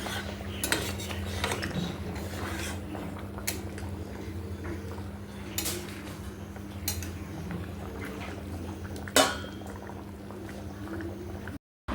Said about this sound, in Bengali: রান্না হওয়ার পর আমি কিছু বাসন ছিল সেগুলো মেজে নিয়েছি